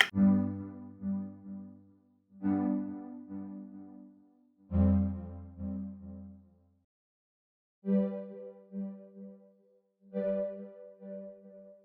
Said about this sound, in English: The next thing we have is this warmer sounding synth pluck